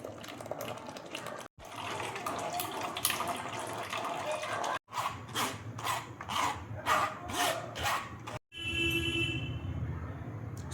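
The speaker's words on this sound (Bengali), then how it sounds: "ছাঁকনি দিয়ে দেখো আমি ছেঁকে নিচ্ছি।" Blended watermelon paste being pressed and stirred through a kitchen sieve, close wet scraping and rubbing strokes in rhythmic bursts, with short breaks between passes.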